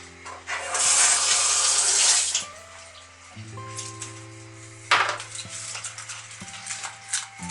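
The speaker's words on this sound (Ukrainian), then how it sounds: "Ні, я додам трошки більше води." Water poured into a pot of caramelizing sugar while making a Snickers-style cake: a loud rushing pour and sizzle for about two seconds, then quieter kitchen clatter and a steady low hum.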